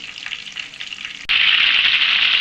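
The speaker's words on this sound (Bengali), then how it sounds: "একটু সময় নিয়ে জিলিপিটা ভেজে দেবে" Apple jalebi sizzles steadily in hot oil, with a soft hiss that suddenly jumps to a loud, dense crackle partway through and stays constant.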